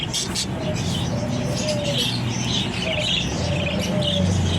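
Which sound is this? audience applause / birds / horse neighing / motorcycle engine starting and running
birds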